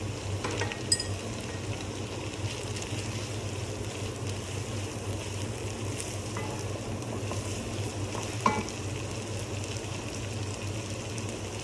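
Boiled minced goat leg meat fries in a pan with a constant moderate sizzle, and a few sharp clinks of stirring stand out.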